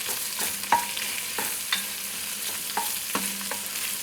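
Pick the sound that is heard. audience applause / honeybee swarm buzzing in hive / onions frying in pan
onions frying in pan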